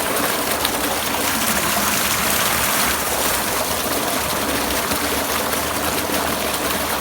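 Water gushes steadily from a village tubewell, a dense, continuous rushing splash that stays loud and close throughout with no pauses.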